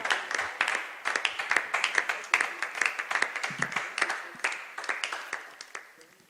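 Church congregation clapping and cheering together, a dense run of overlapping handclaps sustained from start to end at a steady, moderately loud level with no talk over it.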